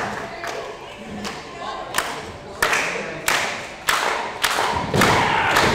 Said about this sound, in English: Missile drop kick by Chip Day, sending O'Shea down